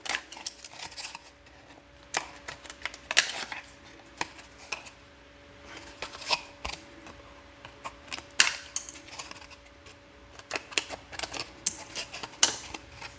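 Corner bead being cut at an angle during a drywall corner repair, heard as a series of sharp, irregular snips and clicks close by, with no talking.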